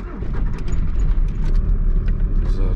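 An old car's engine runs with a steady low rumble at close range, loud and continuous through the whole stretch with some light rattling on top, no talk.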